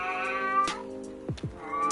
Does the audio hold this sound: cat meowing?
yes